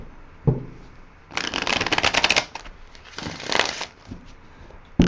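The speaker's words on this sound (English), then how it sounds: "I'm going to do another shuffle and rifle" Two bursts of close, crackling riffles of tarot cards with a sharp tap before and after, quiet otherwise.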